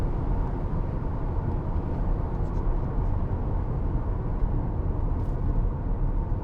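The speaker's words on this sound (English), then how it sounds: "The sound of this engine," A 2006 Mercedes-Benz SLK280 with the 3.0 engine and 7G-Tronic gearbox, heard from inside while driving: a steady, low, even drone with road rumble that holds level throughout, no talking.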